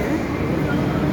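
A steady, low rumbling train noise at Chennai Central station, continuous and fairly close, with no distinct clanks or horn.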